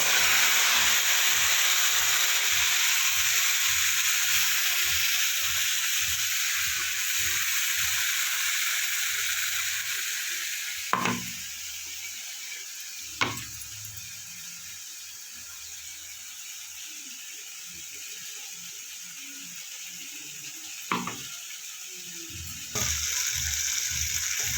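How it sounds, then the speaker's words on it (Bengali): Onion spice paste with cumin frying in a pan and being stirred: a steady, close hiss and sizzle runs throughout, broken by a few sharp knocks of the spoon against the pan. "পেঁয়াজের পেস্টটা একটু নাড়াচাড়া করে নিয়েছি।"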